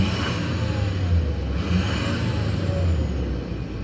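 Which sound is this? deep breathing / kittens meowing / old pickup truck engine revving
old pickup truck engine revving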